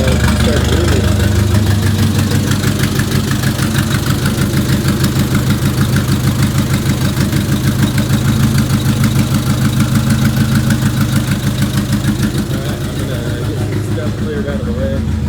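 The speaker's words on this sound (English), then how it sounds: "it sounds like it's gonna die when I first start it" A turbocharged 1987 Mazda B2000 drift truck engine, just started, idles loud and close with a rough, pulsing drone that keeps running steadily and eases slightly toward the end.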